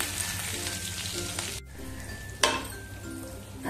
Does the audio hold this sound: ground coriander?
yes